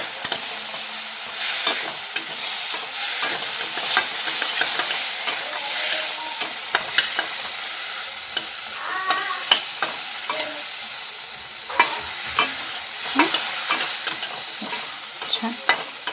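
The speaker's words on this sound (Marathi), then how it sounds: "आता दोडक्यांना त्याला एकत्र चांगल्या जरा परतून घ्यायचं." Chopped ridge gourd is stir-fried in a pan, with repeated spatula scrapes and clatters landing in an uneven rhythm over a constant sizzle, close and fairly loud, no speech.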